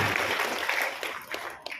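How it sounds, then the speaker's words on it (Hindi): An audience at a school event claps for a top-scoring student, with dense, fairly loud applause that tapers off toward the end with a few final claps. "उस बच्ची के लिए भी बहुत बहुत शुभकामनाएं और तालियों के साथ इसको बधाई देना चाहिए।"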